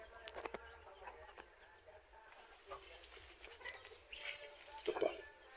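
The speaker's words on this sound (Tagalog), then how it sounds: "Ito, mahalimhim na itong ating Chinese chicken." A broody Chinese chicken hen gives faint, soft clucks and short calls in a quiet coop among straw nests, with a voice talking nearby and a slightly louder cluck near the end.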